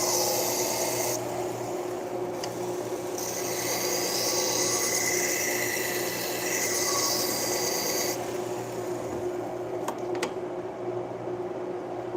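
A Benchmade knife blade is sharpened, producing a continuous close scraping rasp in long strokes with brief breaks and a couple of sharp clicks near the end, without speech.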